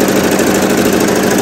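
A serger stitches off the edge of knit fabric while finishing a neckband, giving a steady, fast mechanical whir with an even buzzing rhythm, close and loud, with no talk.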